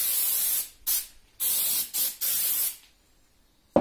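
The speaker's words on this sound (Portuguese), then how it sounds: "Silicone spray. É mágico isso daqui, ó." Silicone spray hissing in five sharp bursts from an aerosol can onto a DeWalt DW733 woodworking thickness planer, each blast loud and close, separated by short silent gaps, with a faint click at the end.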